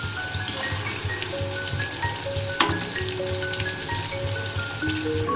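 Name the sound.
brinjal (eggplant) sticks deep frying in oil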